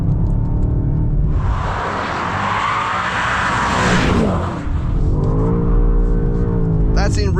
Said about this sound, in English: Bouncing off the rear limiter, it's just crazy, this thing.